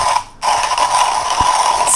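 A Comandante C40 MK3 hand coffee grinder crushing coffee beans, heard close up as a continuous gritty, ratcheting whir with a brief dip near the start.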